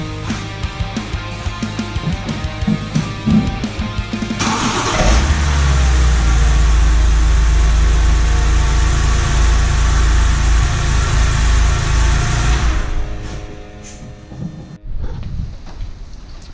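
BMW engine cranking and starting after a starter replacement, catching with a loud roar and settling into a steady, close idle for several seconds before shutting off, with workshop noise around it.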